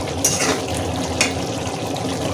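Egg curry with kankarol (spiny gourd) and nuts simmers in a pan with a steady, dense bubbling sizzle, broken by two quick scrapes as it is stirred.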